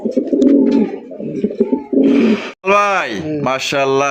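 A red checker racer pigeon coos loudly and close, with deep repeated coos at first, then someone speaks briefly over the bird's calls.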